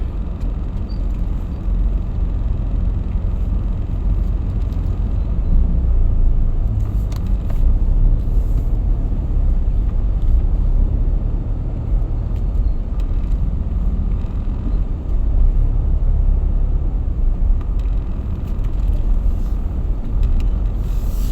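Steady, loud road traffic in Paseo de Rosa, a continuous low rumble of passing cars and motor vehicles that swells and fades slightly without pause, with no clear voices.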